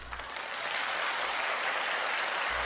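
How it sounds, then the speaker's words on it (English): Sustained applause fills a chapel after a Christmas Mass hymn sung by a choir in a visual novel scene, a dense even wash of clapping that holds steady throughout. "a wave of applause sweeps the chapel"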